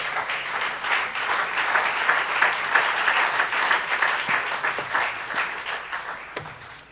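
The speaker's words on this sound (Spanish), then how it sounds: "Le damos un aplauso bien fuerte al Señor." A church congregation bursts into loud applause for the Lord during a service. Many people clap together in a thick, sustained round that swells, then thins out and fades toward the end, with a few stray claps and faint noises.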